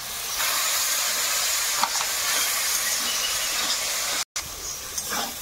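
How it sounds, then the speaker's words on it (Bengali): Masala with chilli powder and tomato paste fries in a pan, giving a steady, close sizzle with a few stirring scrapes and a brief gap near the end. "মশলাটা ভালো করে কষিয়ে নিয়েছি"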